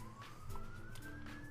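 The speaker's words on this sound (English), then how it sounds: "so you're hearing a police car in the background." Far-off police siren, a thin rising wail drifting in over low ambient noise, distant and faint.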